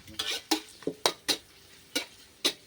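Beef and egg fried rice stir-fried in a wok, with a metal spatula scraping and clanking against the pan in sharp, evenly spaced strokes over a soft sizzle, close and alone.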